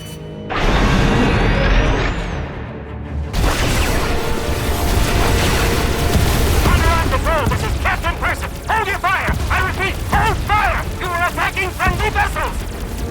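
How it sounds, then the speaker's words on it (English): Loud booming blasts and crashes from a Star Wars: The Old Republic space battle as defensive cannons fire, rumbling continuously, followed by a rapid burst of repeated firing shots near the end. "Defensive cannons activated."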